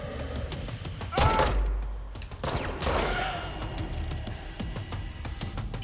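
Bursts of gunfire from the shooter video game Control, with two loud volleys of rapid shots and scattered single shots and impacts over a steady noisy game background.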